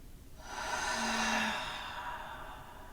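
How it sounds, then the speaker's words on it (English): One slow, deep breath taken during pranayama yoga practice, a soft airy exhale that swells and fades over about two seconds, close and quiet. "Take a breath."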